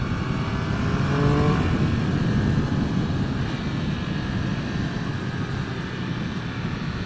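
A 2023 Triumph Speed Triple 1200 RS motorcycle with Öhlins suspension and Pirelli Supercorsa SP3 tyres is being ridden. Its engine note rises briefly, then settles into a steady drone under heavy wind rush.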